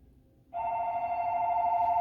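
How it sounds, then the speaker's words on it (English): A home telephone ringing indoors in a kitchen, a loud steady electronic tone that starts abruptly and holds continuously, close and alone without talk. "There's the telephone ringing."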